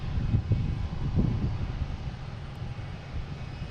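An American Airlines jet takes off from Boston Logan, its engines giving a low, rumbling roar heard at a distance, steady then slowly fading, with some wind noise.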